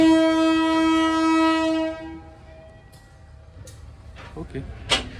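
KA Motis train departing Cipendei station on the southern line, a loud sustained horn blast for about two seconds, then quieter rumbling with scattered clanks and knocks as it moves off.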